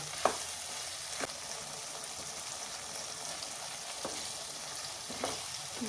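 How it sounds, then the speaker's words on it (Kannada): Ground masala frying in a pan for chicken gravy, a faint continuous sizzle broken by a handful of sharp spoon taps spaced a second or so apart. "ಮಸಾಲೆ ಹಾಕಿ ಹಸಿ ವಾಸನೆ ಹೋಗೋ ಗಂಟ ಫ್ರೈ ಮಾಡುವ"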